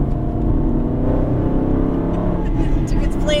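An Aston Martin GT car accelerating on a track, a loud close engine drone with rising tones under a driving instructor's talk.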